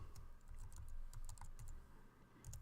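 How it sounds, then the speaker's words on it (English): Fingers type HTML into Notepad on a computer keyboard, giving faint, irregular clusters of soft key clicks in quick bursts over a low room hum, with no voices. "this is what you type into Notepad or whatever text editor you're going to use"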